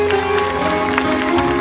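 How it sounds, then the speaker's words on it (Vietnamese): An audience at a live Vietnamese music show at the Peppermill in Wendover, Nevada claps briefly. The scattered applause sits under a steady, sustained musical tone. "vỗ tay lớn lên giùm em"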